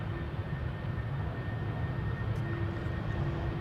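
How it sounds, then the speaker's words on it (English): Delta Airlines Airbus A330-300 airliner departing Amsterdam Schiphol Airport, a steady broad engine roar rumbling at moderate distance with a faint sustained tone throughout, no voices. "Delta Airlines Flight 71, destined to go to Atlanta, Georgia, an A330-300."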